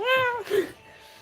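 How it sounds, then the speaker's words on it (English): A cat gives a single drawn-out meow with a rising, wavering tone, up close and moderately loud, followed by a brief second vocal sound and then quiet. "Was that a cat? Sample though."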